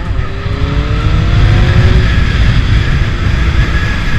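A Honda Hornet 600 (CB600) motorcycle accelerates hard on the road, a loud close engine roar with rising tones climbing through the revs over heavy wind rumble, no talk.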